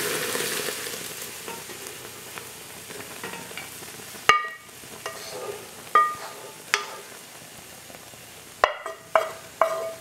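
Milk poured into semolina frying in oil in a large pot gives a loud hissing sizzle that settles into a steady bubbling fry, broken by sharp clacks and scrapes of stirring, close up.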